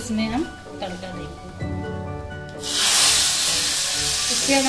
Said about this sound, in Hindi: इसमें हम तड़का देंगे